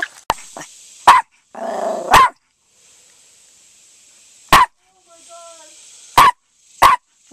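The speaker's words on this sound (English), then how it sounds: "What are you barking at?" A dog barks in sharp single bursts, several spaced out over several seconds, with a low growl between early barks; close and loud.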